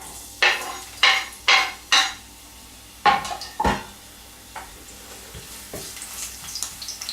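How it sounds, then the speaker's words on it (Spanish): Garlic browning in oil in a frying pan, heard as a quiet sizzle under a series of sharp clinks and taps from a utensil against the pan. Four evenly spaced knocks come first, then scattered softer scrapes and clatter. "Y lo vamos a dorar cuidando de que no se oscurezca demasiado porque si no resulta amargo."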